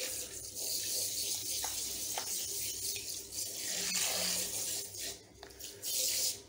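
Running water rinses an English Angora rabbit during a bath, a fairly quiet, uneven splashing and trickling from a tap into a basin, with brief gaps and small clinks.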